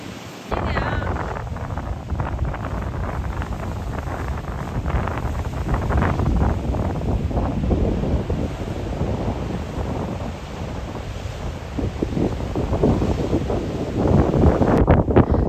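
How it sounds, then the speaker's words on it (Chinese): Waves crash and surge against a rocky beach on the Oregon coast, a steady loud roar of surf mixed with wind buffeting the microphone throughout. "这里的海浪在你没有准备的时候就会激起几米高"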